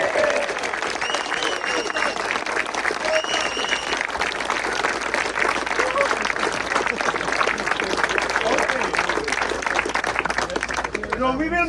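A large crowd claps and cheers continuously at a raffle and thank-you gathering, dense applause holding steady and loud throughout before tapering slightly at the very end.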